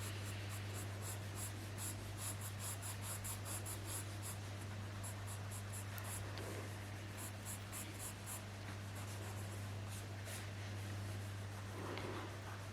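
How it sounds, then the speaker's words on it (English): A pencil scratching over paper as the sketch lines of a Mini car are gone over and darkened, a soft rapid scribbling in repeated strokes, close and quiet above a low steady hum. "I'm just kind of going through and darkening up the lines"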